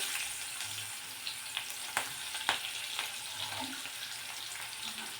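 Sliced onions sizzle gently in hot oil, a fairly quiet steady crackle broken by a few sharp clicks of a spatula against the pan.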